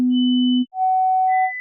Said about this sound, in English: a hearing test involves many different tones